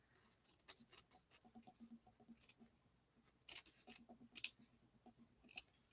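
Scissors snip through a small piece of quilting fabric, a series of close, crisp cuts with brief pauses between them and a louder burst of snipping near the end.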